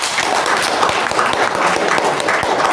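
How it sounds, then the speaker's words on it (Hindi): An audience applauds steadily at a business seminar hall, dense clapping filling the whole moment at a fairly loud, even level with no clear voice on top. "एक बार ताली बजाएं"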